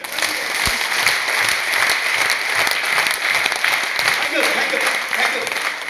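An audience at a seminar hall claps steadily for the whole stretch, a dense, even wash of applause that stays loud throughout, with speech mixed in.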